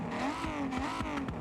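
A Ferrari 4-litre V12 engine revs hard in the racing game Forza Horizon, a loud wavering engine howl lasting about a second and a half with no voices over it.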